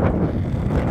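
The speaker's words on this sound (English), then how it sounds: "See what I said about the wind?" Wind gusting across the nature reserve near the Rye sand-flats in East Sussex, buffeting the microphone with a loud, continuous low rumble and rustle.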